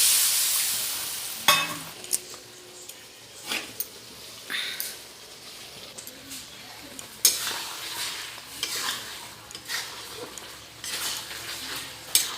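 A pan of potato and egg curry sizzles softly after a splash of water goes in, broken by sporadic scrapes and clinks of a spoon stirring against the pan, close and fairly quiet.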